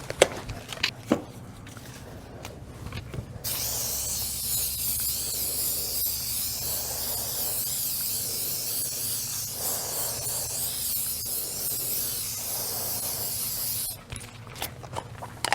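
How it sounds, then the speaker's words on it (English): Steady, continuous hiss of an aerosol can spraying non-silicone mold release for about ten seconds, bracketed by brief handling clicks before and after. "spray it with our appropriate mold release"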